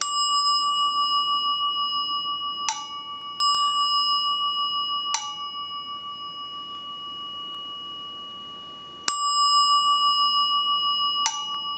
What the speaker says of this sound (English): I'll show you what the chime ring sounds like on this one right here